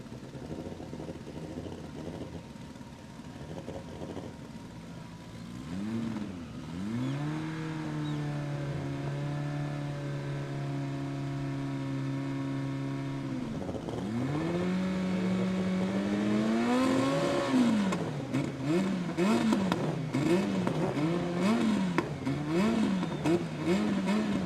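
A Honda Civic drag race car with a K-Series engine, at an import-versus-domestic drag racing qualifying event, revs loud and close, its engine note climbing and holding, then rising sharply again toward the end with no one talking.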